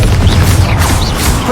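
Confringo blasting spell going off in Hogwarts Legacy, a loud, dense burst of crackling, rumbling energy sustained throughout, with faint whooshing sweeps over the top.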